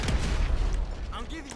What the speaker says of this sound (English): Throw grenades in the back, right by where they are here, just like that.